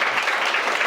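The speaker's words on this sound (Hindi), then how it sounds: "एक बार आयुष भाई के लिए आप सब मिलकर जोरदार तालियां बजाएं" Applause from the audience at a poetry (shayari) gathering, a dense, steady patter of clapping heard through the short burst with no talk over it.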